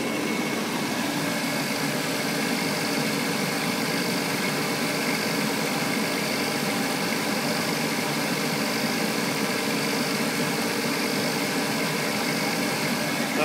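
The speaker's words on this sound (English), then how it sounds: "If we give the compressor a hit" Car engine idling steadily with the air-conditioning compressor engaged, a dense, constant droning hum with broadband mechanical noise and no change in level throughout.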